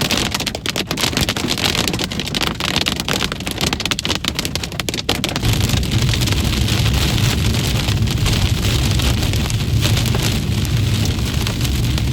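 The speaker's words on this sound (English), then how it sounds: "massive ping-pong ball to tennis ball size hail battered my vehicle" Large ping-pong to tennis-ball size hail hammers a storm-chasing vehicle while it punches through the core of a severe storm, a dense, loud, continuous roar of impacts on the body with no voices.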